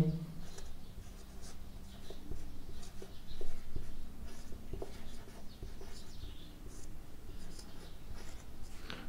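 Pen writing on paper close to the microphone, faint, with soft scratchy strokes continuing throughout and a low steady hum underneath.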